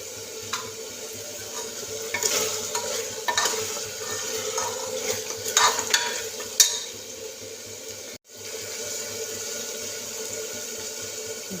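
A spoon stirs sweet-and-sour vegetable curry in a cooking pan, with soft irregular scraping and clinks over a low steady sizzle, ending in a brief sharp pause before the sizzle resumes.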